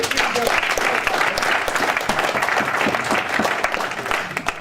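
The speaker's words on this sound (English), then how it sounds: "So give him a round of applause." An audience at an MMA press conference breaks into loud, sustained applause, dense clapping filling the room for several seconds with some crowd voices mixed in.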